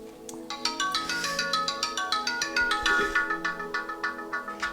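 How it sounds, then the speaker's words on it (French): A mobile phone ringtone plays a bright repeating melodic pattern, loud and steady throughout with no voices over it. "j'ai oublié d'arrêter mon téléphone"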